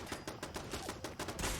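Shots from a modded CROSS break-action laser gun in Fallout 4 fire in a quick rhythmic series of sharp cracks, several in under two seconds, loud and close over a busy background.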